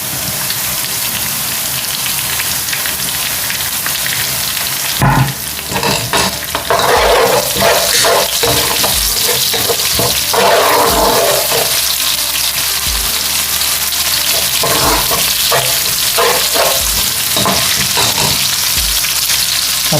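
Cumin seeds and green chilies fry in hot oil for dal tadka, a loud, continuous crackling sizzle with scattered stirring clinks and bursts of spattering throughout.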